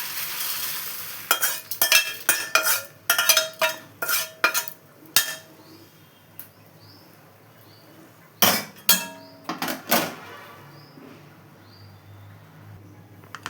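Fried spices stirred and scooped out of a pan onto a plate: a quick run of close metallic scrapes and clinks from a spoon against the pan, a pause, then another short burst of scraping, over a faint sizzle.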